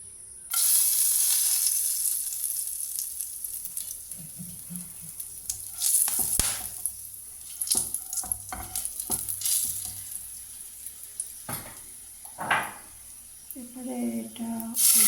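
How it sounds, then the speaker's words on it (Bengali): Whole spices, two cloves, two cardamom pods and a little cinnamon, sizzle in hot leftover oil after pointed gourd has been fried, a steady close hiss with bursts of crackle and stirring scrapes, and a voice speaks briefly near the end. "পটল ভাজাগুলো তুলে নেওয়ার পর যে তেলটা ছিল তার মধ্যে একটু গরম মশলা দিয়ে দিলাম, 2টো লবঙ্গ, 2টো এলাচ আর একটু দারচিনি"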